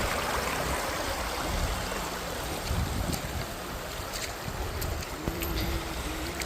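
A strong river current rushes through Jaldapara forest near Madarihat, a steady dense roar of flowing water heard close and alone, with a few faint clicks and rustles on top.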